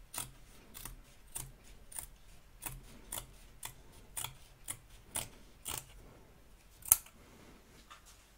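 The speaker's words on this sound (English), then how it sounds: "Trim away the excess fabric and stiffener if you've used it, both back and front of your hoop." Scissors snip away excess fabric and stiffener around an embroidery hoop, a quiet, close series of about fifteen crisp cuts at an uneven rhythm, with no talking.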